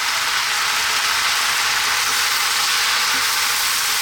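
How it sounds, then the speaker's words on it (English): Spices with turmeric, chili, cumin, coriander and fresh chili sizzle and fry steadily in a hot pan for a vegetable curry, a dense, even crackle close up with no talk. "Going to give this a little mix."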